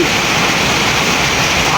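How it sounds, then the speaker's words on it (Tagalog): Heavy typhoon rain and strong wind: a loud, dense, unbroken roar of downpour fills the short stretch with no pauses. "Lakas na ang ulan, malakas na ang hangin."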